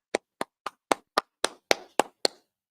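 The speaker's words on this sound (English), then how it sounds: "clap it up" Nine crisp hand claps from a group, evenly spaced and close, gradually getting slightly louder and more reverberant, with no talking.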